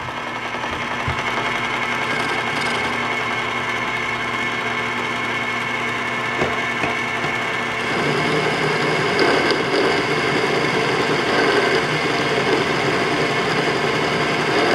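A Sewer Slinger 30 drain cleaning machine runs in gear with a steady, loud mechanical whir and rattle, holding constant throughout with a slight rise in intensity partway through.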